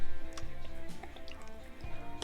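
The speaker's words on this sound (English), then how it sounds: "And then a splash of Worcestershire, which is a little more than a splash." Worcestershire sauce splashes and drips into a bowl of Maryland-style crab cake mix already seasoned with Old Bay, giving soft wet squishes and several small liquid ticks close by.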